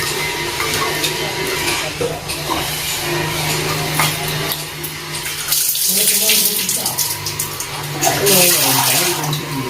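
Tap water runs steadily and fairly loud throughout while a mercury paste is kneaded and washed by hand, with the flow surging and splashing unevenly as the hands work under the stream.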